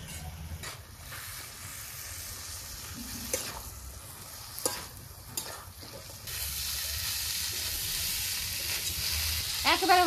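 Peas and vegetables stirred in a frying pan with green chilli, giving soft sizzling and scraping under a low background. The frying grows louder and hissier toward the end, with occasional sharp clinks of the utensil.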